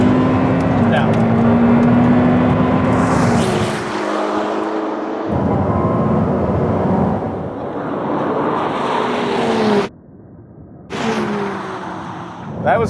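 Ferrari 488 Pista and Ferrari 296 GTB accelerating at full throttle in a drag race, a loud rising engine roar with gear-change steps that cuts off abruptly and resumes, voices talking over it.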